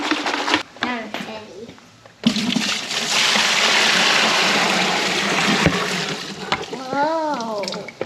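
Water poured steadily into a container during cleaning, a continuous splashing rush lasting several seconds, with a child's and an adult's voices talking before and after the pour.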